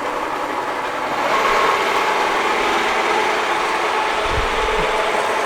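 Summit 16x60 gap bed engine lathe (model 16X60B) running under motor power as its carriage travels forward. It makes a steady, loud mechanical whir and rumble that holds constant throughout, with no voices.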